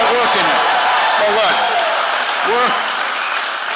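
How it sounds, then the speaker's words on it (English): A large rally crowd applauds for a vice-presidential nominee in Grand Rapids, steady dense clapping and cheering throughout, with voices rising briefly above the roar. "I want to give them a big round of applause too"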